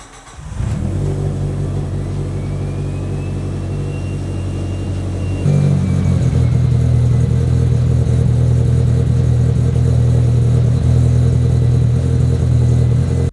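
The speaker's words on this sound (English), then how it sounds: "Let's fire this thing back up," A Mitsubishi Evo engine fires up after repairs to a fuel leak, thermostat and coils, then settles into a loud, steady, close idle that steps up slightly midway and keeps rumbling.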